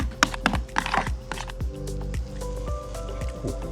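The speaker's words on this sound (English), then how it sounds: "Okay, and stir everything together." A spoon stirs a mixture of barbecue sauce, Dijon stone-ground mustard and grated jalapeno, giving close, wet squishing and clicking sounds in an irregular rhythm.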